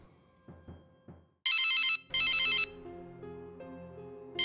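A phone ringtone plays in short, loud, bright electronic bursts, two close-up rings separated by a brief gap, following some softer knocking or thumping sounds and over faint tonal background music.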